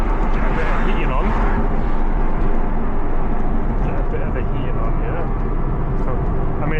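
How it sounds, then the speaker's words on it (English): Inside a moving Porsche 996 Targa with the rear interior stripped out and no rear wheel arch liners, loud steady road and engine rumble fills the cabin continuously, with a voice speaking over it. "it's a noisy ride at the moment because the back's stripped out"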